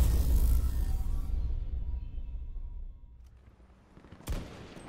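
An SWS-10 sniper rifle shot in Battlefield 2042 booms loudly at the start and decays over a second or two, followed later by a short, sharper crack.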